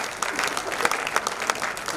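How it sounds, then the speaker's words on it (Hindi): An audience at a Hindi poetry gathering in Ghaziabad's Hindi Bhawan, held as a birthday celebration, breaks into steady, dense applause that fills the room, with some voices mixed in. "एक बार जोरदार तालियां बजाएं।"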